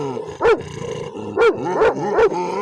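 Dogs growl and snarl up close, with several sharp rough bursts breaking through a continuous low rumble.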